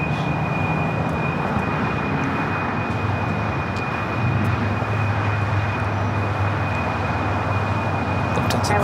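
A heavy EVA Air Boeing 777-300ER taxiing at LAX, a constant loud low engine rumble and whine with a steady high tone, heard from a distance with no talk.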